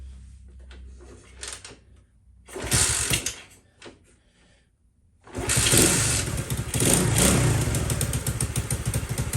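A Honda CT70 motorcycle being started: short cranking bursts and clicks, then the small engine catches and settles into a steady, loud idle close by, with no talking.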